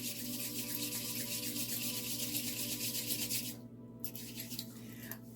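Hands rubbing blue lotus oil into the skin, a soft close continuous friction swish that stops abruptly near the end, followed by a few faint scuffs.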